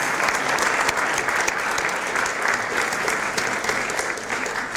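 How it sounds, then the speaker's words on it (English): Sustained applause from an audience honouring mentors at an international student graduation celebration at SIUE, a loud, dense and even wash of many hands clapping throughout. "give your mentors another round of applause and thanks"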